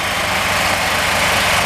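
Two generators run in tandem off a DF X Series 4 gasifier, producing a loud, steady engine drone with continuous low rumble and broadband hiss and no pauses.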